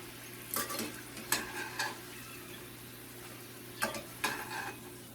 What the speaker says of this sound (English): especially when you fry them in a little cast iron skillet